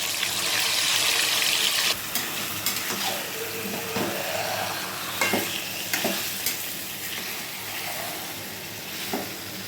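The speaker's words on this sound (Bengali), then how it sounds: "চিনি দিয়ে ম্যারিনেট করে রাখা চিকেনটা দিয়ে দেবো" Marinated chicken sizzles steadily in a hot pan with tomato and whole spices, while a utensil scrapes and stirs it in repeated clinks and knocks, close up and without talk.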